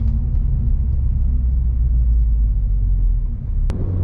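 A car fitted with an Akrapovic exhaust drones with a loud, steady low-pitched rumble from inside the cabin while cruising, the engine note holding constant throughout.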